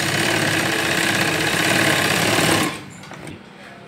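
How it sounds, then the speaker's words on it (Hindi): A sewing machine runs a steady straight seam across gathered pleats on a child's Afghani salwar, a loud continuous whirring hum that stops abruptly near the end, leaving quiet room tone. "इसी तरह आगे वाले ये चुन्नट भी हमें बराबर सेट करके सीधी सिलाई लगा लेनी है।"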